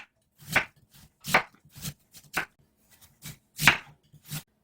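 A knife cuts radish into strips on a cutting board in a Korean summer kimchi kitchen, sounding as about eight crisp, separate chops close by at an uneven, unhurried pace with no talk over them.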